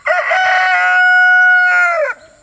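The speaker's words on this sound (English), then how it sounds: "Rooster." A rooster crows once, loud and close, a long strident cock-a-doodle-doo held for about two seconds before dropping off abruptly, alone without other sounds.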